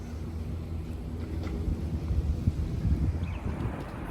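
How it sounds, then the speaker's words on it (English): Strong, rainy outdoor wind at the Liberty Memorial in Kansas City buffets the microphone in low rumbling gusts that swell midway, with a faint background hiss and no talk. "I know it's really windy."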